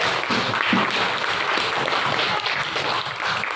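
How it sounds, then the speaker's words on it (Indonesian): Students in a classroom cooking lesson applaud their classmates, a brief, steady patter of clapping at moderate volume with faint voices underneath. "ini tepuk tangan dulu untuk teman-teman yang sampai"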